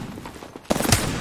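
Gunshots from a battle in the video game Apex Legends: a quieter stretch of rumble, then a sudden loud burst of rapid shots from about midway on, with near, sharp cracks over continuous game noise.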